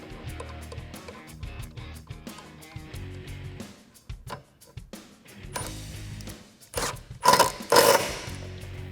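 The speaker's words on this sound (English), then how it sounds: "we can thread our bolt through and tighten it down with our 12mm socket" A 12mm socket ratchet tightens a bolt on a Jeep Wrangler JK mirror bracket, giving a series of irregular close mechanical clicks and ratcheting taps with a louder burst of clattering near the end.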